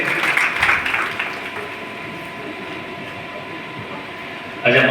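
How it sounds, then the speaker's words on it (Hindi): An audience at a teachers' honour event applauds to welcome the school principal, a dense sustained clapping that begins loud and thins into a steady wash, with a fresh louder burst at the very end. "एक बार जोरदार तालियां बजा करके स्वागत और अभिवादन करें"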